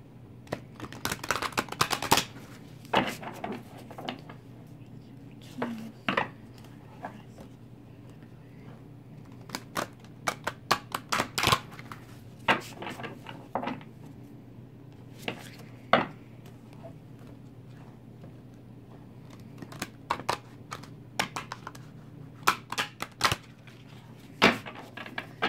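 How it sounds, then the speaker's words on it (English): Tarot cards are shuffled in quick bursts of crisp riffling and tapping, separated by short pauses, close and fairly quiet over a low steady background hum. "I'm just going to shuffle these real quick."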